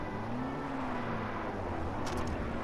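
A car drives in the video game Far Cry 4, a steady engine hum with a slight rising and falling pitch, moderately quiet and continuous, with a brief rattling clatter near the end.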